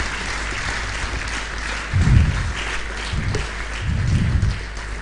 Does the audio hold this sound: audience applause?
yes